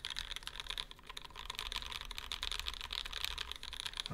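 Rapid, continuous typing on an Alpine65 prototype mechanical keyboard built with both sheets of foam, giving a fairly muted, soft clacking close to the listener with no speech over it.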